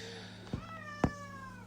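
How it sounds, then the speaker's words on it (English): A cat meows indoors, two short close calls spaced about half a second apart, over a steady low hum with no talking. "My cat is meowing at me."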